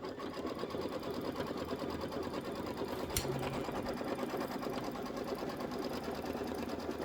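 A sewing machine stitches fabric with denim thread in a steady, fast mechanical whirr of needle strokes, running continuously at close range with a brief click midway and no talk over it.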